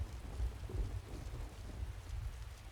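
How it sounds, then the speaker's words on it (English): Steady thunderstorm ambience in Skyrim with the Nordic Souls mod list, dense rain hissing and low rumbling thunder rolling continuously throughout, no speech. "You really feel like you're in a thunderstorm."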